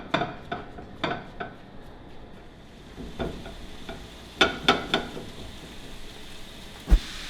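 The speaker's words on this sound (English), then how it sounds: "So while the meat's browning" Ground 80-20 grass-fed beef browns in a pan for a keto bolognese, with a low steady sizzle under sharp scraping and clacking hits of a utensil breaking up the meat, spaced irregularly and louder toward the end.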